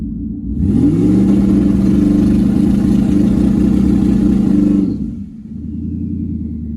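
A single-turbo Mustang engine sits on 2-step launch control, revving up hard and holding a loud, steady, buzzing drone close by for several seconds, then cutting back to a rumbling idle.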